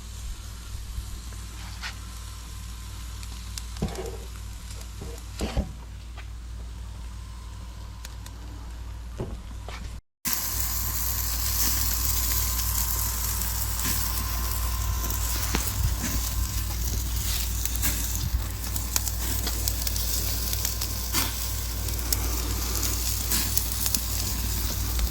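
A porterhouse steak sizzles steadily on a grill, a continuous loud frying hiss that runs throughout, with a brief gap around the flip before it resumes even stronger.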